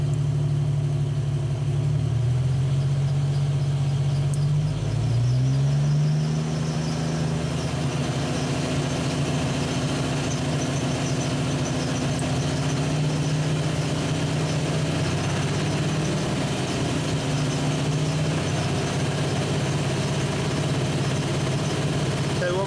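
A vehicle engine idles, then its speed is raised to about 2,000 RPM and held there as a steady, continuous drone with a slightly rising hum near the start, with no talk.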